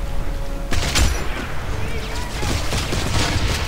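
Pulse rifle fire in the sci-fi shooter Dead Space 3 during co-op play: rapid, dense bursts of automatic shots layered over rumbling in-game ambience and effects.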